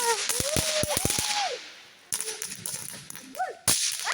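Several sharp firecracker bangs pop close by in a quick irregular burst, then a couple more loud cracks follow, with excited voices shouting and squealing around them at a New Year celebration in Switzerland.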